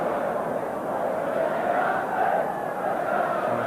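A football stadium crowd at a Tottenham v Tranmere League Cup replay fills the air with a continuous loud roar of massed voices and chanting, steady throughout with no single voice standing out.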